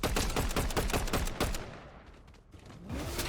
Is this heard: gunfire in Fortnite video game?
yes